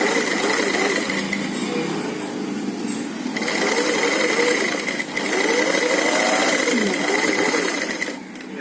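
A sewing machine runs a stay stitch along a garment neckline, a steady continuous mechanical whir with a slight rise and dip in pace, close and loud throughout with no voices.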